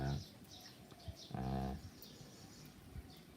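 Pigeons cooing near a home, low soft coos repeating at an unhurried pace over steady background noise, with faint indistinct sounds around them.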